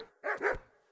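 Two quick dog barks in the medieval role-playing game Kingdom Come: Deliverance, close and fairly loud, set against an otherwise quiet background.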